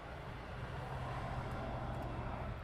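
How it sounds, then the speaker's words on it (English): Helicopter passing overhead at night near an airport, a steady low rotor and engine rumble with broadband roar holding constant throughout. "Oh, it's a heli. That's a helicopter there."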